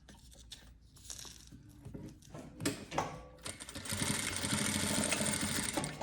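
A sewing machine runs in short bursts and then a steady whirring stretch as it stitches the folded fabric edges of a handmade hairband, with nearby mechanical clicks before the run.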